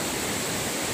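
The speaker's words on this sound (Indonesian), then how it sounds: "Di sebelah sini inilah air terjun yang besar" Large waterfall heard as a dense, steady roar of falling water, broad and unbroken for a brief moment with no voices.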